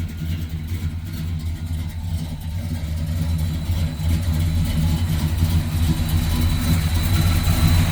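A 1964 Chevrolet Impala convertible with an automatic transmission idles steadily close by, its deep, even rumble continuous throughout with no voices.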